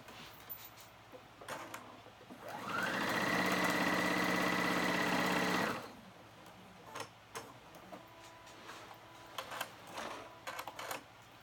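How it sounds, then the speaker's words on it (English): A sewing machine stitches fabric closed on a bow headband. The motor whirs in one steady, loud run of about three seconds, with quiet handling noises before and after. "I'm gonna go ahead with my machine and sew it right there to close that gap"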